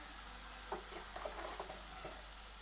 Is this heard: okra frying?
yes